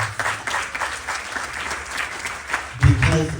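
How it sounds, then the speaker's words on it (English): Loud round of applause from devotees at a Ganesh Chaturthi Yajna celebration, an uneven, fairly close crowd clapping with a low rumble and a brief voice or bump near the end. "I want you to give yourself a loud round of applause."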